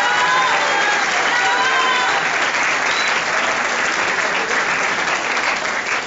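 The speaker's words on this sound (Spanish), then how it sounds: "quiero un aplauso para él" An audience at a lecture on cybercrime bursts into loud, sustained applause, many hands clapping in a dense roar, with a few voices mixed in that fade slightly near the end.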